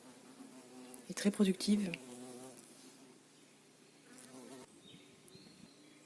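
Bees foraging on borage flowers in a natural garden, a soft buzzing close by that swells and fades as insects pass, while someone speaks quietly over it.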